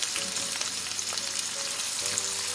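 Medium onion with curry leaves and salt frying in a pan, a continuous bright crackling sizzle held close and fairly loud, with faint stirring underneath.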